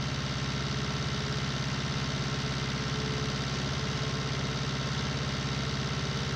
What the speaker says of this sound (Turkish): Traktör bak ne güzel zıplaya zıplaya gidiyor, kurbağa gibi.